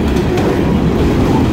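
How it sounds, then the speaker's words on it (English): A loud, steady rumble of a passing freight train of many boxcars, with a continuous low roar and faint rhythmic rattling of cars rolling by. "A lot of boxcars in this one."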